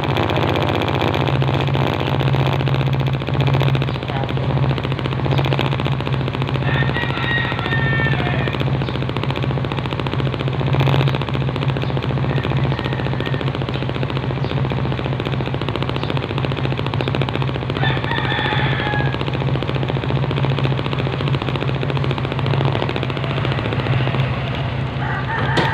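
A motorcycle engine runs steadily at close range, a constant loud buzzing drone with a rapid pulsing throb that holds unchanged throughout.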